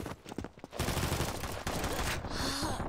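Rapid bursts of gunfire in the mobile shooter game Combat Master, loud, dense and sustained through most of the stretch after a sparser opening.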